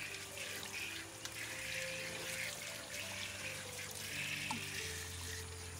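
Colocasia leaves for pathrode washed under a running tap, a soft, continuous hiss of flowing water with faint splashes, quiet and unbroken throughout.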